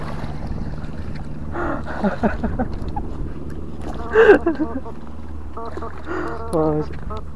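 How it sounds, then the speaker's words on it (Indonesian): A low, steady boat engine drone runs throughout at a river mouth in Maros, with outdoor wind noise and short bursts of people talking over it. "Kok mesin kapal?"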